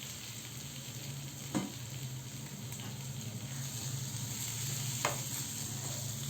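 Coarsely ground peas with green chilli and coriander fry in a pan with a steady, close sizzle, broken by two brief scraping stirs, no talking.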